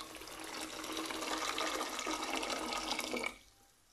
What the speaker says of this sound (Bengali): আমি 2 কাপ ওয়াটারও দিয়ে দিয়েছি।